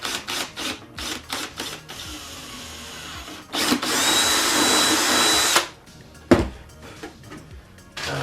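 A power drill drives screws into a screen-accurate Stormtrooper helmet, with several short whirring bursts and a long sustained high-pitched run in the middle, close up and loud, with clicks and handling knocks between bursts.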